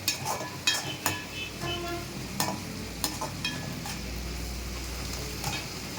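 Tomatoes mashed and stirred in a sizzling pan for chicken chukka, with a steady frying hiss under repeated scraping and clanking strokes of a spoon against the pan.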